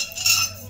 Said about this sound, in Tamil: இது பஞ்ச பாத்திரம். காப்பர் கரண்டி அதேமாதிரி காப்பர்.